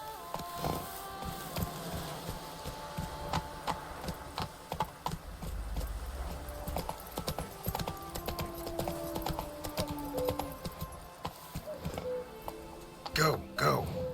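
Hooves of the horse Roach clip-clopping in The Witcher 3, a steady galloping patter mixed with game music and effects, with someone speaking over it throughout.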